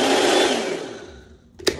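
Blender and food processor combo motor whirring loudly as it chops, the steady drone slowly winding down, followed by a sharp click near the end.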